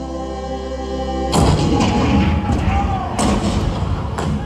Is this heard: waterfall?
no